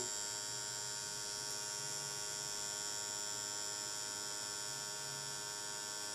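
Bigwasp cartridge pen rotary tattoo machine running steadily, a quiet, even electric buzz with a constant high whine and no change in pitch, close and alone.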